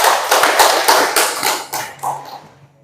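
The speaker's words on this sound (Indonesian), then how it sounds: "tepuk tangan dulu untuk kita semua" A classroom group claps together in a short burst of applause, loud and close at first, with the clapping tapering off and fading out after a couple of seconds.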